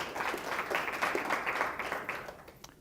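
An audience gives a round of applause, dense even clapping that is moderately loud and fades slightly near the end.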